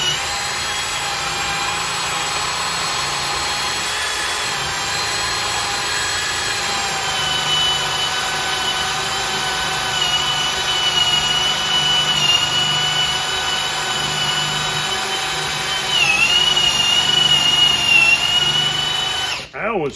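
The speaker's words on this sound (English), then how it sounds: "That was 28 seconds of drilling." A cordless drill bores steadily into wood for about twenty seconds, a loud continuous high whine with a slight pitch dip near the end before stopping.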